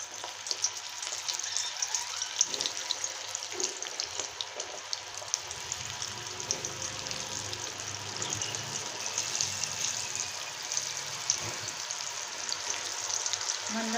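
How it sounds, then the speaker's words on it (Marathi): Chickpeas (chana) fry in hot oil, a steady close sizzle with crackling pops and spits throughout, heard alone. "हे मी तेलात सोडून घेत आहे."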